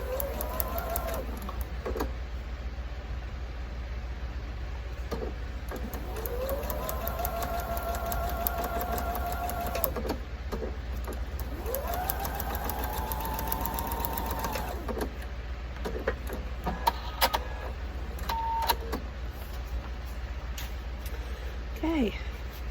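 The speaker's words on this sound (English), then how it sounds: "And we're going to sew on this line." A sewing machine stitches a line through paper-pieced fabric for quilted flying geese blocks. Its needle whirs in several sustained runs with short stops between, close up over a constant low hum, and a voice speaks faintly underneath.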